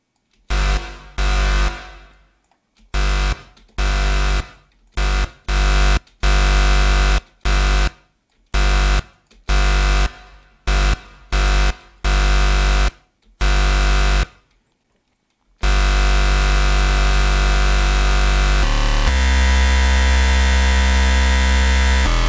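Metallic dubstep wobble bass synth, heard first as a run of short chopped bursts and then as one sustained, loud, reverb-washed tone that fills the rest with no talking.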